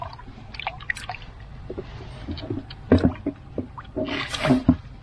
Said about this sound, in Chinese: 啊，哗啦啦的声音，好大。